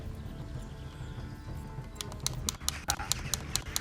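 Horse hooves clip-clop during a fleeing ride in Kingdom Come: Deliverance, faint at first under game ambience, then a quick, regular run of hoofbeats grows clearer in the last two seconds.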